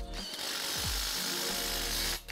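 A power drill bores a hole into a metal greenhouse frame, a close, loud whirring whine that spins up, stalls briefly and resumes before stopping abruptly.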